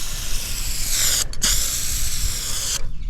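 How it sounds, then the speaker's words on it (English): Rustoleum silver metallic spray paint hisses steadily from a tilted aerosol can, a loud continuous spray broken by one brief pause before it cuts off near the end. "we're going to tilt the can down like this and spray from this angle"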